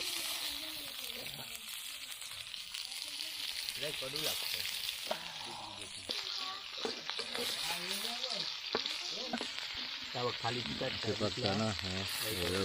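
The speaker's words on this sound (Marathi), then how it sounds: "आता आपण एक एक पीस ठेवूया त्याच्यावरती आवाज बघ कसा येतो मस्त" Pieces of fish dropped one at a time into a hot pan on a Konkan home stove, frying with a loud, steady sizzle and bursts of crackle throughout, with a voice talking over the cooking.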